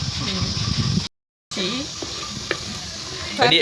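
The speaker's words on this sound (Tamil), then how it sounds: "கொஞ்ச நேரம் வதங்கட்டும், எடுத்துடலாம்." Prawn gravy sautés in a pan with a steady broadband sizzle and occasional stirring scrapes, interrupted by a brief silent gap, with voices talking over it.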